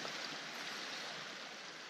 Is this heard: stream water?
yes